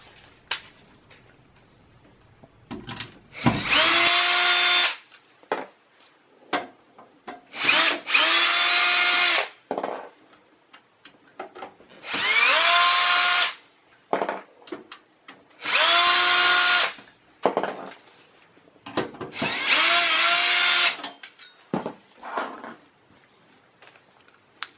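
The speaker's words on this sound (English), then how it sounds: "I'm just gonna use a drill." Power drill working on an HP Pavilion desktop during a teardown, running in about six loud, steady bursts of several seconds each, with pauses and small clicks of handling between them.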